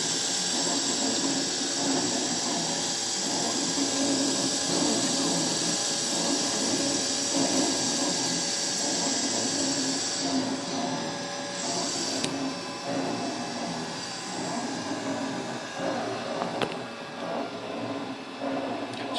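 A Santinelli Nidek ME-1000 lens edger runs steadily while polishing a safety bevel on a lens, giving a continuous whirring, grinding machine drone that holds at an even level throughout, with no voices.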